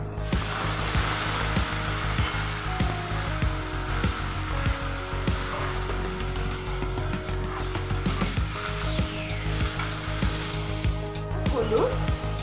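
Boiled bottle gourd tipped into a pan of whole white cumin frying in oil, giving a steady broadband sizzle and hiss with a constant low hum, and a few clatters and scrapes from stirring.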